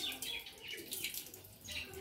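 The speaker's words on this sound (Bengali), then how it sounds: "প্রথমে ব্রাশটাকে ধুয়ে নিচ্ছে" A toothbrush rinsed under a running tap at a sink, with a steady faint splashing stream lasting throughout and no talk over it.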